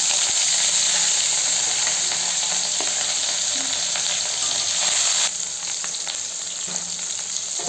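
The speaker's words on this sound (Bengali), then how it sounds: "তেলটা গরম হয়ে গেছে, এই তেলের থেকে ধোয়াটা শুরু করেছে। আমি এর মধ্যে মাছগুলোকে দিয়ে নেব।" Katla fish, rubbed with salt and turmeric, frying in smoking-hot oil in a pan, a steady close sizzle and hiss throughout with a slight drop in intensity partway through.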